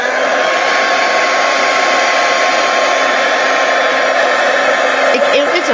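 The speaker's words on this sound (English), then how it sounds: "I need to heat gun it" A heat gun blows hot air steadily and loudly over a gold-flecked art page, a constant close whooshing roar that runs the whole time, with slight shifts near the end.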